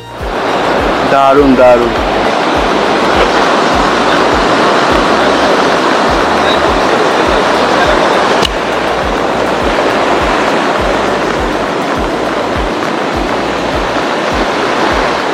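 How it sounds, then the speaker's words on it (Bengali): Sea waves break one after another onto the sand dunes of Bakkhali beach, a loud steady roaring wash of surf with a voice speaking briefly near the start. "একটার পর একটা ঢেউ কিভাবে বালিয়াড়িতে এসে আছড়ে পড়ছে দেখুন।"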